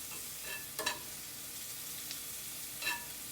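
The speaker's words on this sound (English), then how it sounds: "I'm going to deep fry them. I love the cooking sound." Homemade fries deep fry in hot oil with a steady, faint broadband sizzle throughout and a few brief crackling pops on top. No talking is heard.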